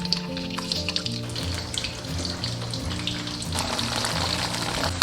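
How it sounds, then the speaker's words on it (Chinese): Sesame-coated chili peppers deep-fry in plenty of oil over low heat, a continuous close bubbling crackle at moderate volume, with a low hum beneath and no voices. "下入辣椒，全程小火炸"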